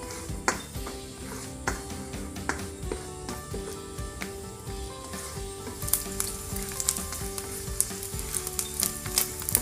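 Crushed garlic stir-frying in hot oil in a pan, a loud continuous sizzle with frequent metallic taps and scrapes from stirring, close and unbroken for several seconds.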